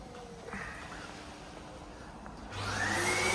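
Hoover vacuum cleaner on a farm, with a steady low background hum before the machine kicks on partway through and settles into a loud, continuous whining roar.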